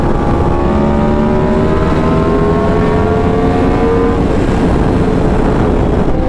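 A Yamaha R1M sportbike's exhaust drones loud and continuous while riding, its engine tone climbing steadily through the gears under heavy wind rush.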